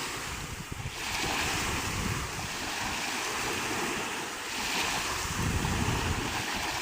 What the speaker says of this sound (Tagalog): At sa lakas ng hangin, parang may naugong.